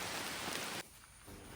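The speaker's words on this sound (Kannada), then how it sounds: "ಮಳೆ ಬಿಡ್ತಾನೇ ಇಲ್ಲ, ಅವಾಗಿಂದ ಬರ್ತಾ ಇದೆ" Rain falling steadily on an arecanut plantation in July, a dense even hiss that briefly softens midway before resuming, with no voices.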